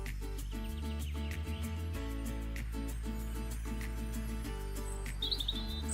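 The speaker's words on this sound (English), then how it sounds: "now you know birdsong is a disturbance of particles" Birds chirp and tweet in short, quiet bursts over a steady, low tonal drone, with a brighter trill near the end. No voices are heard.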